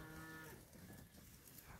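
A cow lets out a single low moo in a field of oats and fava beans where cows with calves at foot are strip grazing, the call faint and somewhat distant over outdoor ambience.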